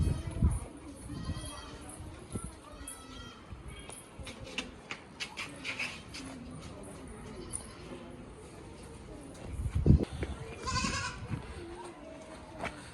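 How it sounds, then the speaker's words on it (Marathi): A goat bleats repeatedly at a relative's house, with short wavering cries coming in bursts close to the microphone, mixed with dog-like whimpers while people talk nearby. "तो बकरी आली बॉबी."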